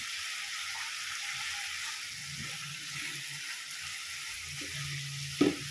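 Fried potatoes go into hot spiced oil in a pan, giving a continuous sizzling hiss with a few soft scrapes and a sharp clatter near the end.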